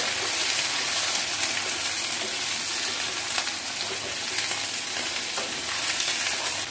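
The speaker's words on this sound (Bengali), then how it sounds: "আমি এটা একটু ভাজা ভাজা করব, বেগুন আর আলুটা।" Eggplant and potato frying in a pan for torka begun, a steady, close, full sizzle that carries on without a break, with a few faint stirring clicks and no voices.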